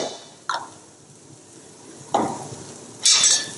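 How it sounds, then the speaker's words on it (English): Ginger and garlic stir-fried in a pan for chilli crab give a low sizzle, with a few sharp scraping stirs and clanks spaced apart and a bright hissing burst at the end. "Stir fry that one."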